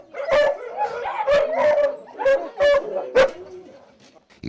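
Alan breed dogs at a Spanish breeders' kennel bark in a series of about six sharp, loud barks mixed with whining yelps, close by, in an uneven rhythm.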